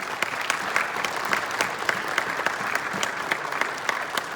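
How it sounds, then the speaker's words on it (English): An audience applauds Army veterans as they stand, a steady crowd clapping that fills the short stretch at a constant, fairly close level with no talk over it. "Let's give them a round of applause"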